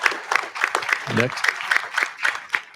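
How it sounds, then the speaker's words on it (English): Town hall audience gives a round of applause for Lone Tree, a thin, scattered clapping from a modest crowd at moderate distance, with a voice speaking briefly over it. "Round of applause for Lone Tree"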